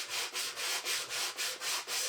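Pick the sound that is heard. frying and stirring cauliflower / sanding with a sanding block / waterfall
sanding with a sanding block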